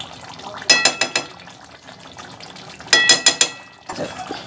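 Paneer being stirred with butter in a pan for a shahi paneer dish: two quick clusters of wet clicking, scraping strokes, then a softer third stir.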